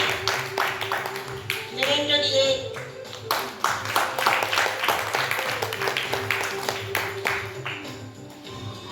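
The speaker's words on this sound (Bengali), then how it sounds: "জোরে করতালি দেবে" Audience members clap at a theatre festival opening ceremony at Muktangan, with scattered, uneven claps running beneath an announcer speaking over the hall's sound system.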